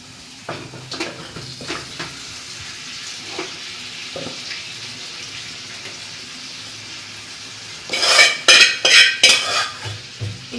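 Boiled chicken tipped into a curry frying in a pan and stirred, with soft scraping and light sizzle giving way to a loud burst of clattering metal-on-pot stirring strokes near the end.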